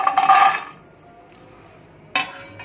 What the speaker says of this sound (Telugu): అందువల్ల ఈసారి అన్ని డ్రైగా వేయించుతున్నా